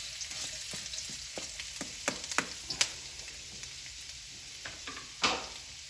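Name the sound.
pork tenderloin frying in oil with garlic, ginger, onions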